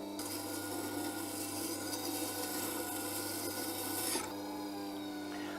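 The wing of a V-profile wood carving tool is ground on a sharpening machine in one continuous steady rasping grind over a motor hum, close and even, then it eases off near the end.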